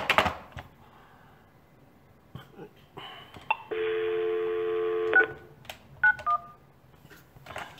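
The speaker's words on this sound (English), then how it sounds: "I don't want y'all hearing the dial tone" Button clicks and handling noises, then a steady telephone tone for about a second and a half, followed by a few short beeping keypad tones.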